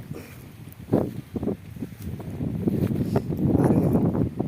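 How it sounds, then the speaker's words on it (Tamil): Strong wind buffets the microphone in heavy low rumbling gusts, growing rougher and more constant toward the end. "காற்று வேறு டலமாக அடிக்குது"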